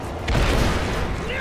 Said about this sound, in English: Boom goes the dynamite.